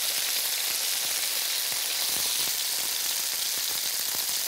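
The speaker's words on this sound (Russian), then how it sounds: "Вот они успешно жарятся." Spicy Burmese-style meatballs fry in a pan with a loud, steady, crackling sizzle and scattered pops throughout.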